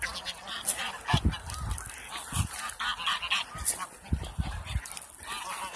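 Geese honk repeatedly and loudly at close range during feeding from a large bag of feed, with ducks mixed in, overlapping calls and flapping bursts forming a busy, continuous chorus outdoors.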